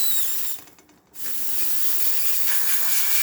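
The steam wand of an Olympia Cremina espresso machine, fitted with a new wand and boiler cap after a tune-up, gives a steady, close hiss that drops away briefly and then returns strongly.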